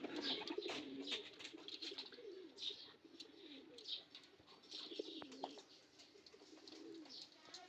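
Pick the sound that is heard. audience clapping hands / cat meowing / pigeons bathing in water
pigeons bathing in water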